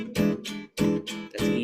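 Electric jazz guitar strumming chords in four-note shapes at a brisk tempo: five full, ringing chord hits in quick succession, played alone.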